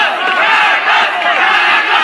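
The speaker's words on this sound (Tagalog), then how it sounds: "And the crowd chanting" A dense boxing-arena crowd roars and chants without pause at a Snow Badua vs Carlos Fenequito bout, the loud, sustained wash of many voices filling the space.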